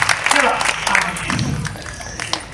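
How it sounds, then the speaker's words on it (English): A crowd claps and cheers loudly at a youth stage event as a performer named Binta is welcomed on stage, with uneven, lively clapping and some voices mixed in near the start. "Can we give Binta a round of applause,"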